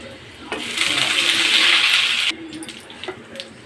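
Mustard seeds, chana dal and urad dal go into hot oil in a kadai for tempering, setting off a sudden bright sizzle that hisses for about a second and a half, then drops to scattered crackles and pops.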